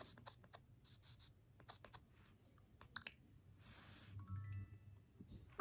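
Stylus tapping and scratching across a Nintendo DS touch screen while writing in PictoChat, a series of faint, quick clicks and taps spaced irregularly, ending with a couple of soft chime-like tones.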